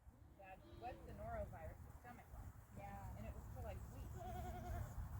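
Several goats bleat in short wavering cries over a steady low rumble, with a person calling out to them now and then.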